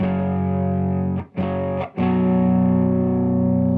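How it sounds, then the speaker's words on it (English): A heavily distorted electric guitar power chord rings out loud and sustained, briefly choked twice before ringing on with a thick, growly tone. "That still gets this good power chord growly sound"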